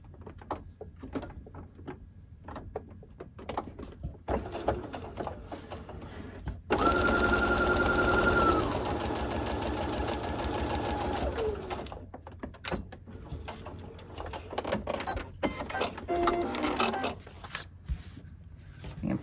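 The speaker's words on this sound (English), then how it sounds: "we're going to sew just on the line." A sewing machine stitches a paper-pieced quilt block in one loud, steady burst of a few seconds, with quieter handling noises and faint bird cooing around it.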